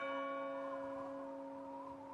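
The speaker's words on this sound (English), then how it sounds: "Just then, a distant bell rang out." A distant bell rings once and hangs in a long, steady, faintly shimmering tone over quiet woodland at night, with no voices.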